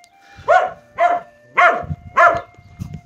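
A dog barks four times in a steady, evenly spaced series, close and loud, with a faint continuous hum underneath, outdoors in the Basque countryside near St-Jean-Pied-de-Port.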